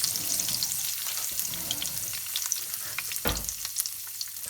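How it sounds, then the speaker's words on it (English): Whole spices, cumin and coriander seeds, hit hot oil for a beef meatball curry, giving a steady close sizzle and frying hiss with a few crackles and a brief louder burst partway through, no talking. "And then I will put in my whole spices."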